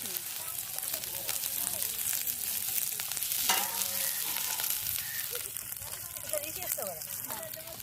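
Koyi curry frying and being stirred in a pot for a Bonam offering, a steady close sizzle with scraping stir strokes throughout, people talking over it.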